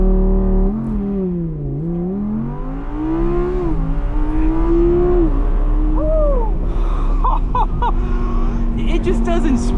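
A C8 Corvette Z06 supercar on cold tires with lowered pressure accelerates hard, its engine note rising and falling loud and close as it pulls through gears, with people talking over it inside the car.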